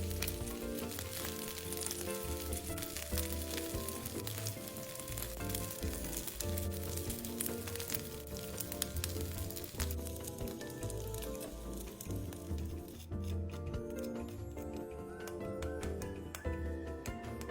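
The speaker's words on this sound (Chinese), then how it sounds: "煎至两面微微焦香" Purple sweet potato sago cake rolls pan-fry in hot oil until lightly browned on both sides, sizzling with a continuous crackling hiss and small pops that stay steady and close throughout.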